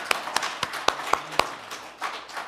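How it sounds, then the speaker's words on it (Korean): A church congregation at a Sunday service in Chicago claps for a woman who has served them. The applause is short and sparse, made of separate close hand claps with an uneven rhythm. "우리 그래도 그동안 수고해 주셨는데 우리 윤 전사님한테 박수합시다."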